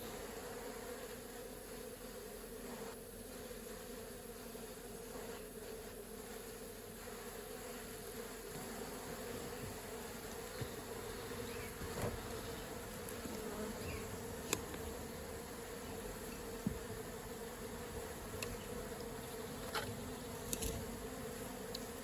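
Honey bees buzz steadily around an open hive, a continuous droning hum with individual bees passing close now and then, no voices.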